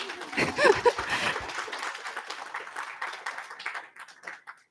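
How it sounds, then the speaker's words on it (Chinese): Audience at a one-day seminar claps on request, a brief burst of applause that starts strongly and gradually thins out into scattered claps. "掌声一下好不好？"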